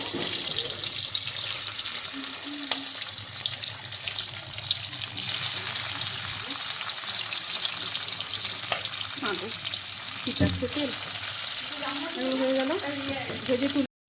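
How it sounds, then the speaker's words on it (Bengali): Continuous oily sizzling of bhetki fish balls frying in a pan, with occasional clinks and stirring noises and brief bits of background voice. "এই যে তেলে দিয়ে একটা একটা করে ভেজে নিব"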